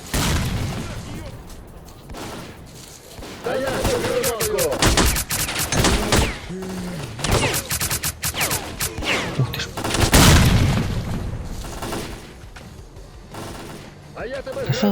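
Gunfire and a grenade blast in the shooter game Stalker: Clear Sky, loud bursts of automatic fire and booming impacts with a voice talking over the fighting.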